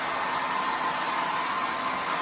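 A hair dryer blows steadily and loudly throughout while drying acrylic paint, a constant whooshing roar with no breaks.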